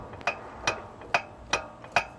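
Metal axle clanging from slop at its connection to the differential carrier, near the pinion, five sharp evenly spaced clanks about every half second, close and alone with no talk.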